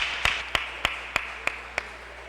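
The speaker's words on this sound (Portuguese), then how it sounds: "as palmas louvam o Senhor" Six sharp, evenly spaced hand claps ring out one after another in a quiet church service, fairly close, with a low steady hum underneath and no talking.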